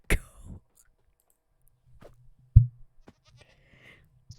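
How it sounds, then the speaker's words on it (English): A goat bleats in the Minecraft video game: one short cry near the start, followed by a few faint clicks and low, quiet game sounds. "Why did I just hear a goat? Uh, Oh yeah, I'm in Minecraft."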